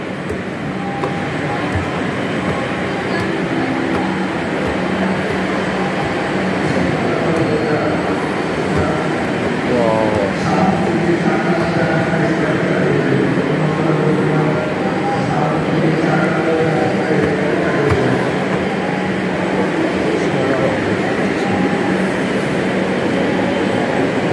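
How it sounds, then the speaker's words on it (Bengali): A Kolkata metro train heading toward Dakshineswar pulls away with a long, steady loud rumble and whine that stays even for over twenty seconds, heard close without talk. "দক্ষিণেশ্বরের ট্রেন চলে যাচ্ছে।"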